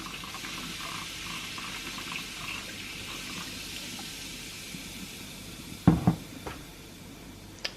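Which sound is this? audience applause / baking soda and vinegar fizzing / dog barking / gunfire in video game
baking soda and vinegar fizzing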